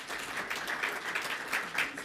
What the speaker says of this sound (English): Can we give a round of applause to the panelists